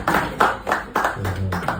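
A group of people clapping in loose, uneven bursts, several sharp clusters of hand claps spread over a couple of seconds at moderate distance.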